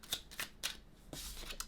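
Tarot cards are shuffled in quick bursts, several crisp riffles and slaps close to the microphone, ending in a longer rustling shuffle, with no talking.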